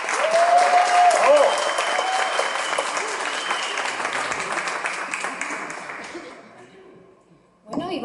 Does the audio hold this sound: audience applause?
yes